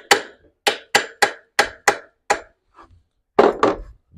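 Gentle hammer taps on a generator governor part during a repair, about eight sharp separate strikes in an even rhythm, then a short pause and two heavier, fuller knocks, close and clear with no talking.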